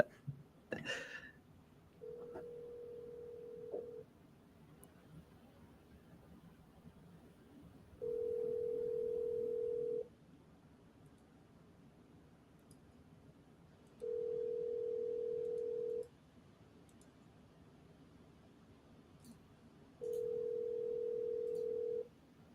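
Telephone dial tone and call-progress beeps on a live outbound phone call: a short tone followed by three evenly spaced longer steady tones, each about two seconds, with faint background between them and no talk.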